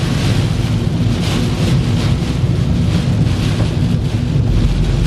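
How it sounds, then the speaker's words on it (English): Strong wind roars during storm chasing across the Cornbelt, a loud, steady, broadband rush buffeting the microphone without pause. "Oh my gosh, this wind."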